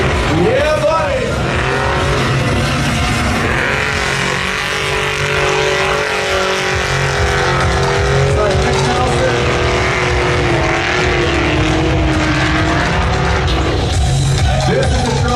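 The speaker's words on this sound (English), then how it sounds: "This is the trophy truck. This is meant to conquer the open desert, not so much. And here they come." A desert trophy truck races past at an outdoor car show in Riyadh, its loud engine roaring steadily throughout with a commentator talking over the noise.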